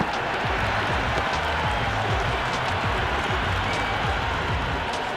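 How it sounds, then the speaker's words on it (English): A large crowd in the cricket video game Cricket 26 roars and cheers continuously, a dense, loud wall of voices with scattered claps, no single speaker standing out. "The crowd are really getting quite raucous."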